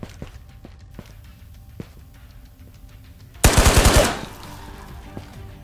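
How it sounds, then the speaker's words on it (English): An AK rifle in the shooter game Ghosts of Tabor fires a quick burst of about six loud rounds after a stretch of quiet footsteps, and a faint tail follows the burst. "this AK is destroying"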